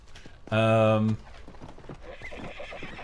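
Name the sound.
horse neighing and hooves in the video game Red Dead Redemption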